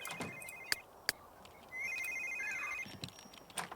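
A phone rings in The Sims 3 video game, a short electronic ringtone trill, faint and thin, with a few soft clicks around it.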